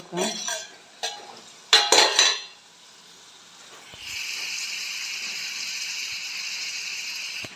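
A spoon scrapes and clanks against a cooking pot in a few short bursts near the start, then fades into a soft, steady hiss of cooking food.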